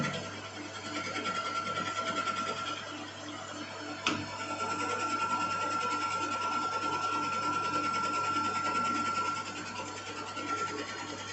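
A metal lathe cutting a cam runs with a steady, close mechanical whir and a constant hum, one small click about a third of the way through, and no talking.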